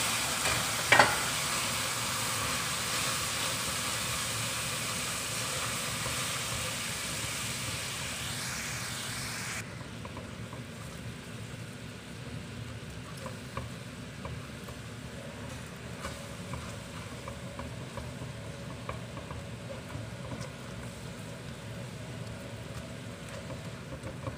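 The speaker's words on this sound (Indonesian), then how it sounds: "saya ini masukkan air panas sebanyak 65 ml sambil diaduk" Hot water is poured into caramelised sugar syrup for caramel pudding. A brief sharp hiss is followed by steady bubbling and sizzling as the syrup is stirred, moderately loud at first and then settling to a quieter simmer.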